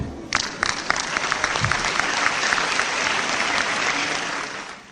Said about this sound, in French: Et je nous invite tous, y compris les enfants, y compris les conseillers, à l'applaudir pour lui dire merci.